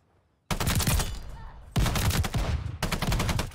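Assault rifle in Call of Duty: Vanguard firing in three sustained automatic bursts, loud and close, each a dense rapid rattle of shots with brief pauses between, heard in a private match.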